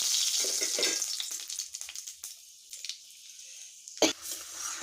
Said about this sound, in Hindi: अब मैं इसमें 5 फोरन का तड़का लगाऊंगी।